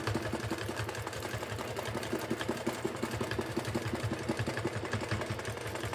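A sewing machine stitches continuously while quilting a table runner, a steady rapid mechanical whir and needle chatter held at an even, close, moderately loud level throughout with no speech.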